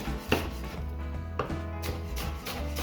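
A kitchen knife chops through onion on a cutting board, a couple of sharp, distinct chops standing out over steady background music.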